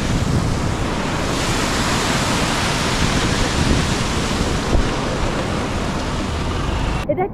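Shallow stream rushing through a village near Cherrapunji in Meghalaya, a steady loud wash of water with wind noise that fills the whole stretch, with no talking.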